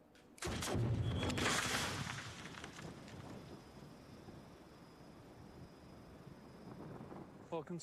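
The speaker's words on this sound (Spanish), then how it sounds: "El tubo de metal estallaba cuando salía por la boca del cañón, con un efecto similar al de muchos disparos de escopeta." A loud, sharp blast bursts out and rolls into a long, crackling rumble that slowly fades, as a cannon fires canister shot whose metal tube bursts at the muzzle like many shotgun blasts.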